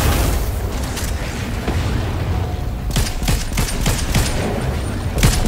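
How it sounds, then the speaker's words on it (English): Gunfire in a multiplayer shooter game: dense rattling bursts and booming shots, with rapid volleys clustering in the second half and continuous loud background noise. "Who are you guys shooting at?"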